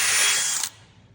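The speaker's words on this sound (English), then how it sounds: "just get this little wire wheel attachment on the end of the drill" Drill fitted with a wire wheel attachment scrubbing metal on a tanker model, a loud, harsh, high whirring grind that runs about two thirds of a second before stopping abruptly, leaving faint low rumble, close and alone.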